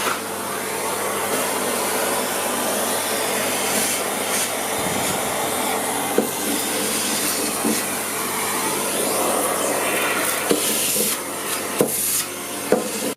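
A vacuum cleaner runs steadily beneath an old 1930s tube radio during restoration, a continuous broadband whoosh with a few faint knocks and bumps as the nozzle works underneath.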